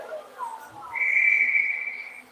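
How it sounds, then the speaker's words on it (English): A referee's whistle sounds at a girls' junior hockey game between the Soo Jr Greyhounds and Sarnia Sting, one clear sustained blast of about a second, rising after a brief murmur of rink noise. "I'm going to get a whistle here."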